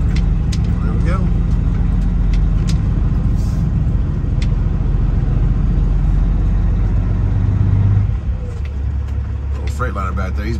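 A truck engine pulls steadily in fourth gear along a slushy, snowy road, a loud, close, continuous drone whose tone shifts and eases near the end, with someone talking over it.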